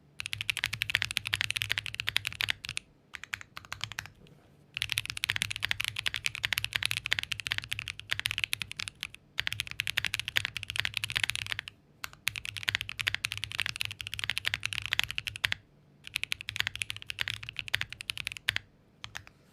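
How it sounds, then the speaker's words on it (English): Steady, fast typing on a Poron gasket-mount mechanical keyboard with crisp, close clacks, broken by a few short pauses between bursts. "It's a gasket mount keyboard, Poron gasket mount."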